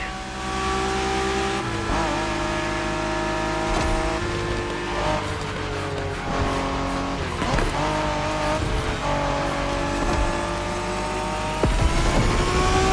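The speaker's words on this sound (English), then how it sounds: "We're going for some proper Japanese street racing." Cars street racing in The Crew Motorfest on a Japan-themed course, with loud, continuous engine drone and revving that rises and falls, shifting gears over the whole stretch.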